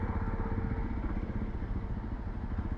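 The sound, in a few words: Jawa Bobber 42 motorcycle engine starting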